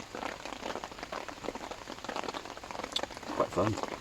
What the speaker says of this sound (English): the rain's coming in